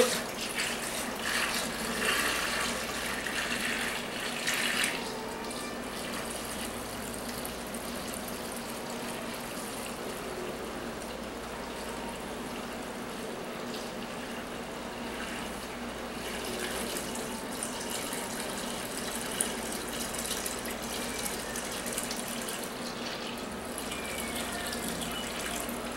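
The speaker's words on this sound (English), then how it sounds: "I'll just fill the rest up with some water" Water runs steadily from a tap to fill a home brew pot, a continuous close hiss and gush that barely changes in level for the whole stretch.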